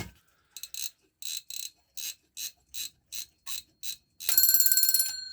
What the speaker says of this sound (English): It's an alarm, but check this out. How do you wind up the alarm?